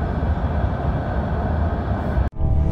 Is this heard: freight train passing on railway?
yes